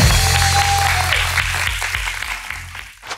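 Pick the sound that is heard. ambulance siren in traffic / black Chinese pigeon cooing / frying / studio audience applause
studio audience applause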